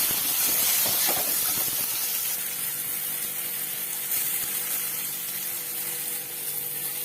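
Chopped onion and tomatoes frying in a pan for soybean curry, a loud steady steamy hiss with a burst of crackling sizzle at the start that settles into an even, continuous fry.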